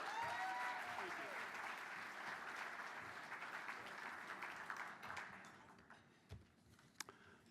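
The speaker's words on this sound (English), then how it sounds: "Round of applause, everyone." An audience at a gala award presentation claps steadily, with a few voices mixed in, before the clapping thins out into scattered individual claps and taps.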